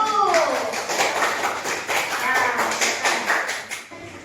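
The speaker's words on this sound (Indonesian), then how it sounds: "Tepuk tangan buat kelompok 1." A group of schoolchildren applauding, dense close clapping that fills the whole moment, with a brief voice at the start.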